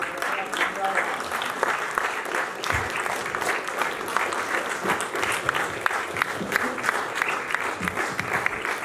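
A mushaira audience at Ealing Town Hall in London claps steadily and at length, a dense, even wash of applause with no pauses.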